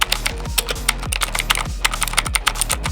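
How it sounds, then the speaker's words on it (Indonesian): An AOC GK500 mechanical keyboard with clicky blue switches is typed on rapidly, producing dense, crisp, loud clacks in an irregular fast rhythm, close up with no voices. "Keyboard ini pakai OETMU Blue Switch, feel-nya clicky banget."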